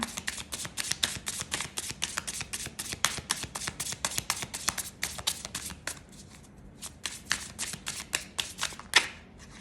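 Tarot cards are shuffled close by in a rapid run of crisp riffling slaps, pausing briefly and then resuming with a few scattered taps and a sharper snap near the end, with no voice.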